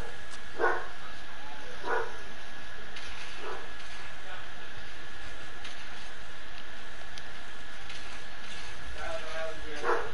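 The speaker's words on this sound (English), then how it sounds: "You hear his vicious bark?" A dog barks a few times at scattered intervals, sharp but partly buried under steady background noise and faint talk from a game session.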